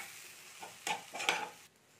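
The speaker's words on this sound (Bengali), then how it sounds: "এবারে দিয়ে এটাকে আমি ভালো করে এর সাথে মিশিয়ে নিচ্ছি" Grated radish and ginger mixture stirred in a bowl, giving a few soft wet squelching strokes close by over faint background hiss.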